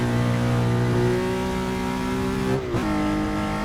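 A race car laps the 1960s Watkins Glen circuit in the Assetto Corsa racing game, its engine holding a steady buzzing tone that dips sharply near the end as the revs change.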